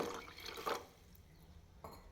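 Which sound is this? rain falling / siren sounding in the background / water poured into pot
water poured into pot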